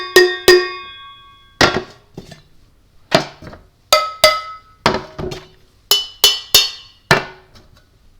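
A riff in its 3-2 pattern, struck as sharp metallic, cowbell-like hits grouped in threes and twos with short pauses between, each ringing briefly, close and clear without voices.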